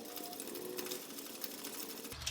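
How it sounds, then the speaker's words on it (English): Fuel tank pump on a Coleman camp stove worked by hand, a fast rapid rattling pump stroke rhythm close and steady throughout, with no talking. "you pump it at least 40 times"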